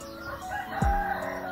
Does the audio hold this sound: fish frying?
no